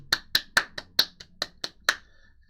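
Nine sharp hand claps in a loose, uneven rhythm, close and fairly loud, with no voices.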